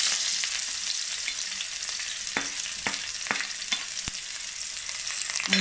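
Shallots frying in hot coconut oil, a steady close crackling sizzle throughout, with several sharp pops and spatters standing out over the hiss.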